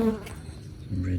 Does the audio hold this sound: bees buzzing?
yes